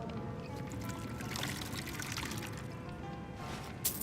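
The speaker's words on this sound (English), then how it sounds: "May I have a refill of water?" Water poured into a vessel in the video game Skyrim, a steady trickling pour running the whole time at moderate level over soft ambient background, with a brief sharper clink near the end.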